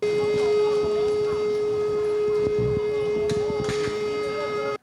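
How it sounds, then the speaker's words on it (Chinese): An air-raid siren wails during a civil defense wartime simulation drill in Taiwan, holding one steady, loud tone from start to finish, with faint background noise underneath. "防空警报响响开始弹，所有人员拢放下手边的工课"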